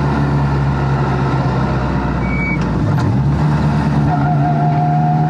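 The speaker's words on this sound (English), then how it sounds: "And on overrun, it makes a chatter." A Ford Escort engine chatters on overrun inside the car, a loud, rough, steady mechanical drone with low rumbling tones and a brief higher chirp midway.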